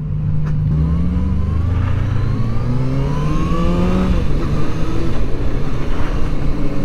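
A Kawasaki Z900RF motorcycle engine roars loudly and close while ridden, its pitch rising and shifting as it accelerates under steady wind rush.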